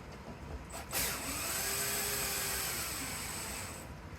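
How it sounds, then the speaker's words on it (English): A power drill driving screws while changing a residential ceiling light fixture whirs steadily for a few seconds after a brief click, with a rising then sustained motor tone, fairly faint and close. "I should probably use the power drill since it's right here."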